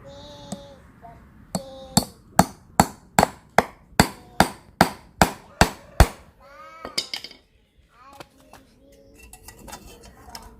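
Hammer strikes on a nail being pulled from a pull-starter recoil assembly while its starter rope and large spring are replaced: about a dozen sharp, evenly spaced taps close by, followed by lighter scattered clatter.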